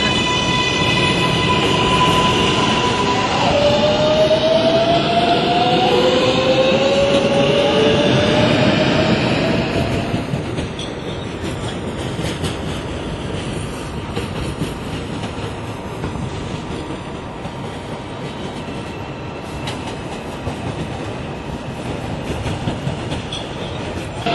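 An R142A subway train bound for New Lots Avenue rumbles loudly along the tracks, its motor whining in rising tones before the roar settles into a steady, clattering run.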